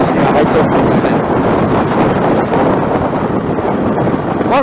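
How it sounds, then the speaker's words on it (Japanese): Strong typhoon wind buffets the microphone in a loud, continuous roar with broadband rumble and gusting, steady throughout with no speech. "もうこの辺はすでに強風域には入ってるんですよね"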